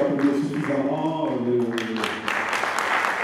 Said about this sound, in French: Est-ce qu'on peut applaudir suffisamment